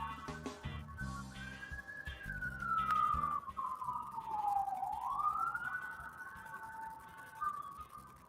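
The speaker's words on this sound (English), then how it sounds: "It's very siren-y today" A siren wails outdoors, sweeping slowly down in pitch and back up in one long continuous cycle, clear and steady above the background hum.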